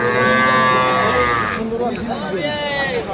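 Cows bawl loudly and near at Ambari cattle market, a busy market for improved-breed dairy cows and calves with Friesian and cross breeds, long drawn-out moos rising over the crowd noise while people talk nearby.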